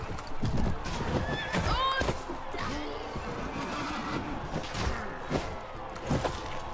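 Horses whinny and hooves clip-clop amid battle clatter in Mount and Blade Warband with the Floris mod, with repeated neighs and hoof hits mixed into busy combat noise at moderate loudness.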